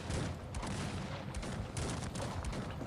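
Artillery and musket volleys in the Cossacks 3 battle game sound as a dense, continuous crackle of gunfire with repeated booms, fairly faint and distant-sounding, with no talk.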